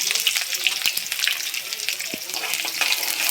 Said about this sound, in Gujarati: વઘાર માટે હવે નાખી દઉં છું ડુંગળી ફ્રાય માટે